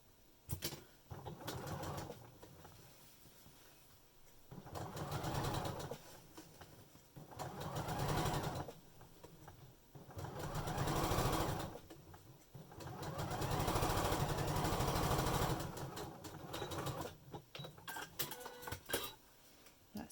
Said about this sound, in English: We'll fold that over to the side and we'll top stitch that seam down through the middle.